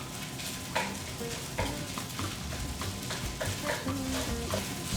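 Eggs broken up and stirred in a hot frying pan alongside fried rice, a constant sizzle punctuated by regular scraping and tapping strokes of a utensil against the pan.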